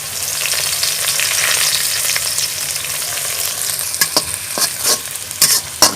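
Onion and curry leaves frying in oil for a Tulu padengi bajil, a loud continuous sizzle that gives way to bursts of scraping and stirring near the end, close and without speech.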